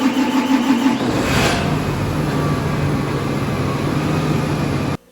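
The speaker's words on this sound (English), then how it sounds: "It was the John Deere tractor." John Deere tractor engine running on a farm, a steady loud mechanical hum with an initial rev near the start, droning evenly throughout before cutting off abruptly at the end.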